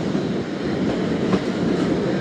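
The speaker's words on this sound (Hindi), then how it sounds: "ट्रेन रवाना हो रही है साहिवाल रेलवे स्टेशन से" The Karachi Express pulls out of Sahiwal railway station, a steady close rumble of wheels and carriages rolling with faint rhythmic clatter and no talk.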